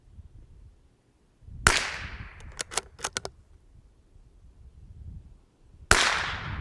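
Two loud, sharp Bergara BMR X rifle shots outdoors, seconds apart, each a crisp crack with a decaying tail, and a brief cluster of light clicks and rattles from the rifle handling between them.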